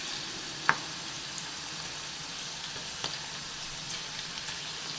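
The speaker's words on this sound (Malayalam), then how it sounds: "കുറച്ചായിട്ട് ഇട്ട് വറുത്ത് കോരിയെടുക്കാം" Tapioca slices frying in a small amount of oil for crispy chips, a steady soft sizzle throughout with a sharp crackle or pop near the start and another faint one later, no talk.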